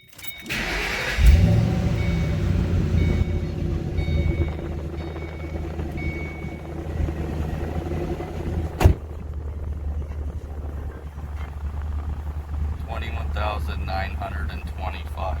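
A Ford Mustang GT engine cranks and catches, then settles into a steady, rumbling idle. The sound is close and continuous, a brief sharp click comes midway, and a voice talks faintly under the idle.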